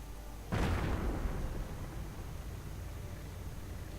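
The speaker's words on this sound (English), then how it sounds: "mortar fire raining in" A single heavy mortar round bursts in a video game battle with German tanks and commandos, a sudden deep boom followed by a long rumbling decay and lingering low roar.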